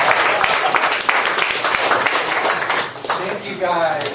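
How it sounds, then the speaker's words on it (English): Audience applause fills a business networking meeting: steady, dense clapping from a roomful of people, fairly close, with voices talking and calling out over it toward the end. "big round of applause."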